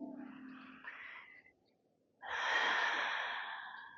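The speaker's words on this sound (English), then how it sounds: "Two more big deep breaths." Two deep breaths during a Pilates cool-down, a softer airy exhale first, then after a short pause a louder, fuller breath rushing out close to the ear, with no talking.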